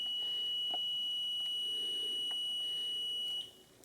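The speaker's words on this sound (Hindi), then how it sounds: "वही 5 सेकंड का बजर साउंड, वोट कास्ट हो गया।" A steady electronic buzzer tone from an EVM VVPAT unit during a mock poll training session, sounding continuously for several seconds after a vote is cast, then cutting off near the end, with faint short beeps along the way.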